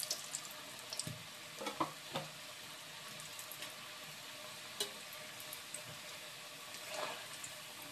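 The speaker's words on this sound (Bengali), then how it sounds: "তারপরে এবার এগুলো দিয়ে ভেজে নিচ্ছি।" Fresh fenugreek leaf and flour snacks deep-frying in oil over medium-low flame, a soft, quiet bubbling hiss with a few scattered clicks and light knocks, no talking.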